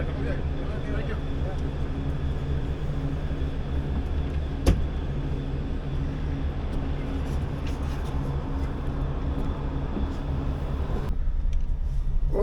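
Sprinter van cruising around an industrial plant, a steady low engine and road rumble from inside the cab with a brief sharp knock midway and a short quieter stretch near the end.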